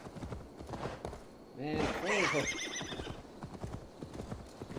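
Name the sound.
winged horse hoofbeats in video game Assassin's Creed Valhalla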